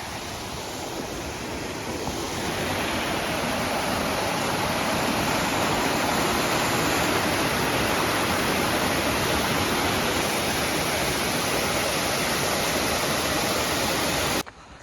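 A river stream flows beneath a bridge on Mount Ciung, a strong, unbroken roar of rushing water close by that swells slightly after the first seconds and then holds steady, with no voices.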